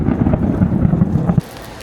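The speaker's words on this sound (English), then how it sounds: "it's been pouring rain" Heavy, steady rain roars for over a second, dense and full, then cuts off abruptly into a quieter hiss.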